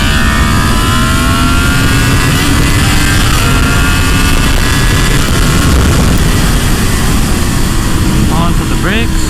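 A loud Yamaha MT-10 motorcycle engine with a flashed ECU roars steadily at full throttle and high revs, dense and continuous, with a rising whine near the end as it winds out.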